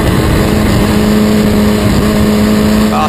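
Historic Formula Ford race cars at Snetterton in 2014 give off a loud, continuous engine drone close by, holding a steady pitch for the whole stretch.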